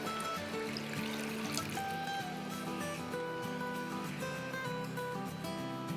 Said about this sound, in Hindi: 4 कप पानी है मेरे पास, ये अभी मैं इसमें डाल रही हूँ